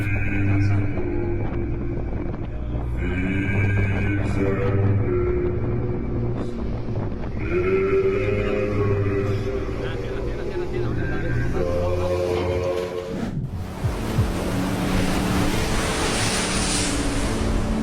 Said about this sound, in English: The crew of the tanker filmed the storm from the ship and it looks impressive